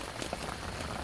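Steady rain pours down on a parked camper van, a dense, even hiss of drops drumming on the roof with no pauses and nothing else heard over it.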